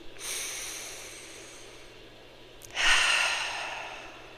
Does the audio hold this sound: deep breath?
yes